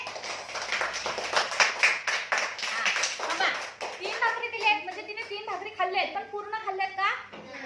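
Children clap in quick rhythmic bursts in a classroom, close and lively, followed by children's voices talking over them.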